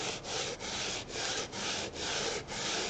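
Hand sander smoothing cured resin off the back of a pour painting, a steady close rasping hiss in even strokes with brief dips about every half second.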